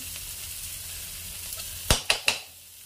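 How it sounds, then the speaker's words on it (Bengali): Onion frying in a pan makes a soft, steady sizzle, then three sharp metallic knocks from a spoon against the pan in quick succession. No one speaks. "পেঁয়াজটা ভাজা হয়ে গেছে"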